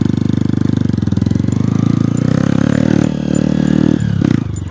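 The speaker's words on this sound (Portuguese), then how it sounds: "Uma volta de moto, né?" A motorcycle engine runs close by on a ride out to a cattle pasture, a steady loud pulsing thrum with a slight change in pitch near the end.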